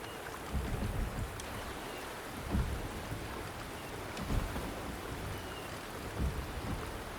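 Steady rain falls in the mountain town of the video game Wuthering Waves, a continuous hiss with soft low rumbles swelling every couple of seconds like distant thunder.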